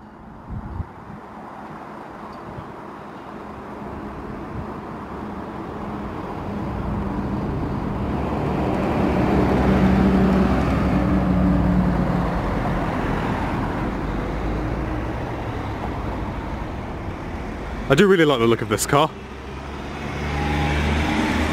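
Steady traffic rumble from a very busy road in front of a parked Toyota Yaris, a continuous low wash of passing vehicles with one brief sharper pass near the end, while someone speaks briefly over it.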